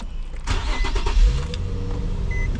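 A car engine cranks briefly and catches, settling into a steady idle rumble up close.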